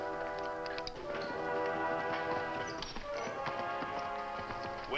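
Hooves clip-clop in a steady, irregular patter, three or four horses approaching together amid other background sounds.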